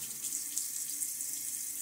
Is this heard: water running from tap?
yes